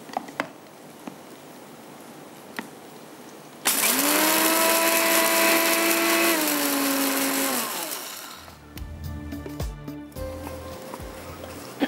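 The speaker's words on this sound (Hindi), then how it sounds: "साबुत धनिया और ज़ीरे को हल्का सा हम यहाँ पर मोटा मोटा क्रश कर लेंगे" An electric kitchen grinder crushes whole coriander and cumin seeds, starting with an abrupt loud whir that holds steady for a few seconds, then winds down and gives way to clattering and handling noises.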